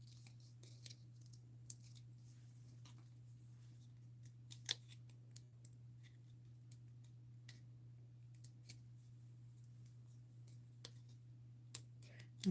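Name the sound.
peeling paper backings off card-making pieces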